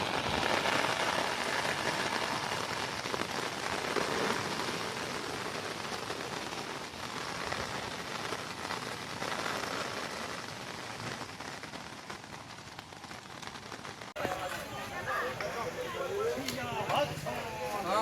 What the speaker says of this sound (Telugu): వర్షం ఎక్కువగా కురడం వలన